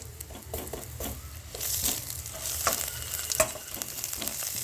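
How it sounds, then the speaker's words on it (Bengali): Onions and ground garam masala sizzle in a hot pan (kadai) with potatoes, with steady frying crackle and intermittent stirring scrapes close up, no speech. "এর সঙ্গে পেঁয়াজের সঙ্গে ভেজে নেব"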